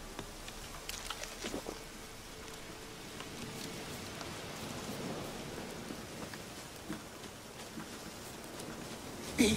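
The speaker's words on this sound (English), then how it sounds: "Uh-oh. Looks like rain." Rain in The Witcher 3: Wild Hunt falls as a steady hiss of drops, with scattered sharper taps and a faint low rumble like distant thunder, ending in a brief louder bump.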